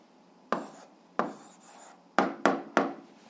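A pen writes an answer on paper in short, crisp strokes, five separate scratchy marks close up against a quiet background, the last three coming in quick succession.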